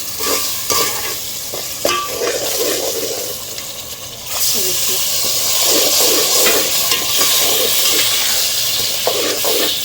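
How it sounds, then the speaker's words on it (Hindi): Semolina halwa is stirred and roasted in a pan over a medium-low flame, with steady scraping and a sizzle that grows louder as water is added. "फ्लेम मेरा मीडियम से कम है, इसको हल्के से भूनते जाएंगे।"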